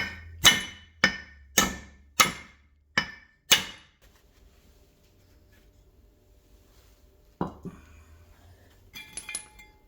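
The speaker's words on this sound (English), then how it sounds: "I'm just gonna smack the old lugs out" Old lug studs being hammered out of a brake rotor from a first-generation Cummins truck. Six sharp, ringing metal blows land in an even rhythm, followed by a pause, then one more strike and light clinks.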